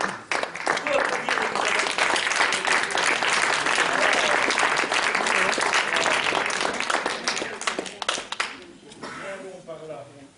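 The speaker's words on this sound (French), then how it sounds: "On peut applaudir" An audience at an evening veillée in Plouagat applauds a performer, with dense, sustained clapping from a crowd that holds steady and then thins out toward the end, while a voice begins to speak.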